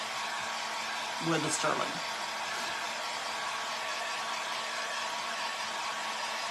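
A hair dryer blows a constant, close whirring stream of air over a painted resin ornament throughout, with a brief spoken remark partway through.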